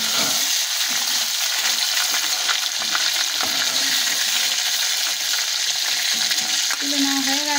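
Chicken pieces for biryani frying in a pan, a constant loud hiss and crackle of hot oil with occasional clinks of a utensil against the pan, alone without talk.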